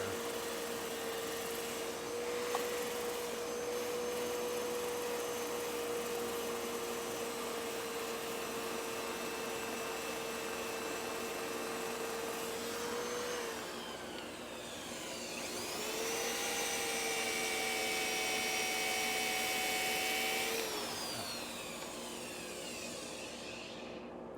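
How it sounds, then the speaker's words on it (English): A shop vacuum drones steadily beside a wood lathe while a natural-edge wooden bowl is turned, a loud continuous whine whose pitch rises after about fifteen seconds, then settles near the end, with no talking. "Forgot to put the vacuum back in place."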